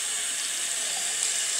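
A small pump from a notebook water cooler kit pushes a steady stream of water, heard as a constant close hissing splash with no breaks and no talking.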